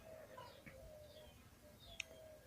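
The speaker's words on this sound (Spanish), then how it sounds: "el trino de los pájaros" Faint, distant birds sing outdoors, with scattered short chirps and whistles and a sharp single call near the end, over a quiet background hiss.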